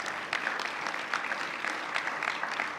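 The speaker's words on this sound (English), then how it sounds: "yes, we should clap for that" Audience applause at a university matriculation ceremony, a steady wash of many hands clapping at moderate volume with no voices over it, continuing evenly throughout.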